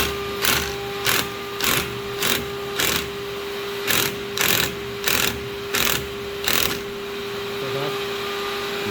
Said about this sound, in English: You see that screw gun?